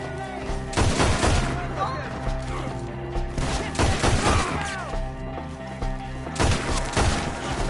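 Gunfire in Red Dead Redemption 2, with bursts of sharp rifle and pistol shots in clusters and crashing impacts over a game music bed, while voices shout in between.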